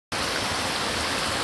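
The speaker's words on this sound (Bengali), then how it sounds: "আপনাদেরকে আমি যদি একটু শোনাই বৃষ্টির শব্দটা" Heavy rain pours onto the tin roof of a village house, a steady, dense hiss that starts abruptly and holds even and loud throughout, with no voices.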